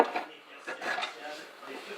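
A cup is taken from among dishes in a kitchen during baking. Soft ceramic clinks and faint cutlery rattles come close up, brief and quiet.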